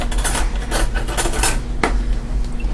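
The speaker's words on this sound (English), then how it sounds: "I'm going to grab a fork out of my silverware drawer here." Metal silverware clinks and rattles as a fork is pulled from a kitchen drawer, a few close bright jingles and a sharp clack, with no talk.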